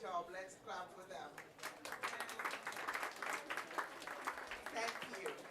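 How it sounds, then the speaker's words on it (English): Audience applause at a WHA77 side-event on social participation for primary health care, following a live performance: faint, steady clapping that builds after a quieter start and continues evenly, with some voices mixed in. "Let's clap for them."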